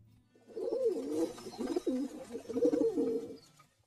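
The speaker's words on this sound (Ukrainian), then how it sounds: "Голуби воркочуть" Pigeons coo in low, throaty, rolling phrases, a few calls in a row, close and clear against a quiet background.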